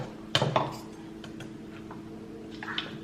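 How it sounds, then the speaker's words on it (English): A spoon cuts into a baked creamy chicken casserole fresh from the oven, with a couple of sharp clinks against the dish followed by softer scraping taps, and quiet background sounds around them. "I like to cut mine with a spoon."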